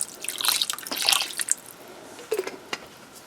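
Worcestershire sauce drips and splashes into a turkey pot roast, a run of quick, light liquid patters and droplets close by with no talking.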